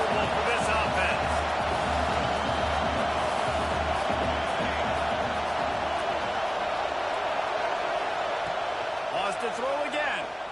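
Stadium crowd at a college football game, a loud steady roar that never lets up, with an announcer talking over it throughout.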